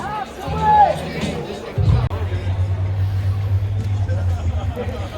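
Crowd at an Andrew Yang rally in Los Angeles, a murmur of outdoor chatter and babble with a low vehicle engine rumble running underneath, voices nearby.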